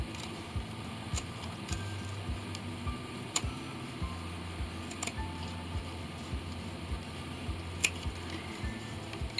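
Scissors snip through fabric around an appliqué quilt block, giving a run of soft, close, irregular clicks and ticks over a quiet background.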